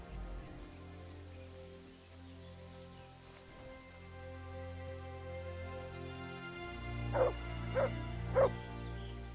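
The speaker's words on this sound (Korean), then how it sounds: "와, 이 강아지가 다 찾아주네." Three sharp, loud dog barks in Kingdom Come: Deliverance, spaced evenly near the end over a steady low game ambience and background music-like drone in a forest setting.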